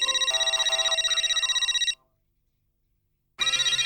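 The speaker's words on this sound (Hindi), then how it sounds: "पांडे जी का फोन" A phone ringtone plays a bright electronic melody, cuts off into a second and a half of silence, then starts ringing again.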